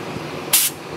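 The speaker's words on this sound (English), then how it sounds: "paint gun action" A single short hiss of a spray gun applying black paint to a front brake backing plate of a 1965 Volkswagen Beetle, loud and close, lasting a fraction of a second against quiet background noise.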